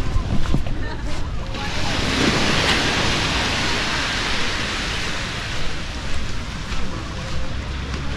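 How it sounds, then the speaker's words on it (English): Ocean surf washes in at center Kamala Beach in Phuket, Thailand, a broad steady roar of breaking waves with wind buffeting the microphone and no speech. "I'm going to take a stroll out to the beach here. We're about center beach right here in Kamala."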